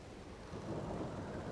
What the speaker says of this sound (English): see if we can get rid of this rain